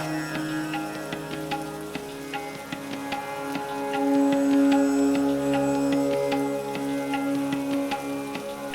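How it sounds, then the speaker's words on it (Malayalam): Rain patters steadily with scattered drips, beneath sustained ringing tones in the background. "അന്തരീക്ഷം ഒന്നുകൂടെ കുളിർപ്പിക്കാൻ ഒരു നല്ല മഴ കൂടെ വന്നിട്ടുണ്ട് കേട്ടോ."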